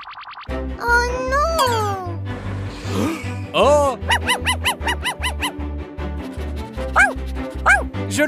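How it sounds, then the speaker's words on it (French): Playful, cartoon-like dog yips and barks come in rapid bouncy bursts over a thumping, bass-heavy children's music track, with springy boing effects and bright chirps mixed in during an outdoor kids' game. "C'est un chien!"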